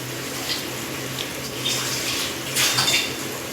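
Water poured into mutton gravy with ground masala in a pressure cooker, a steady splashing, running flow with a couple of brief louder gushes near the end.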